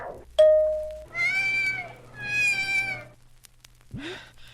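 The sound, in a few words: cat meowing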